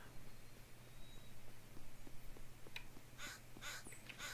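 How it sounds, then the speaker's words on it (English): Crows caw in the video game SpiritTea, a quick cluster of several harsh calls near the end over a low steady background hum, with no talking. "I'll just run the birds off."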